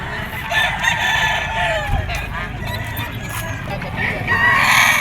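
A yellow-legged bull stag rooster, national banded, crows among other roosters in a busy gamefowl sale area, with background chatter and clucking throughout.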